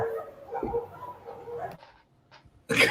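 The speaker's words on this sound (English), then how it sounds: "That's my neighbor's dogs." Neighbor's dogs bark and yip faintly in the distance in a few short bursts between quiet gaps, with one sharper, louder burst at the end.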